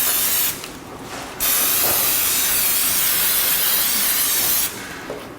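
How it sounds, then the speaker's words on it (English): Cooking spray hisses in two bursts, a short one and then a longer steady one, loud and close, with no voices. "I'm going to spray it here first"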